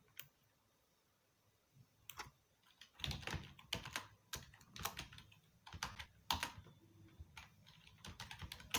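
Keys clatter on a computer keyboard as a signup page is coded in Node.js, with irregular bursts of close, crisp keystrokes that start sparse and grow quicker and denser, with no voices.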